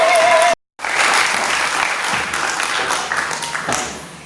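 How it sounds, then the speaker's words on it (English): Audience at a Kwanzaa event at Malcolm X College applauds and cheers loudly. The dense clapping is cut by a brief silent gap near the start, then carries on steadily to the end. "Y'all clap it up for yourselves. Come on, make some noise."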